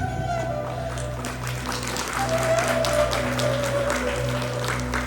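Applause from an audience at an Uzbek stage event in Yuqori Chirchiq district, a steady wash of clapping that runs through the whole stretch beneath sustained musical tones and a faint hum.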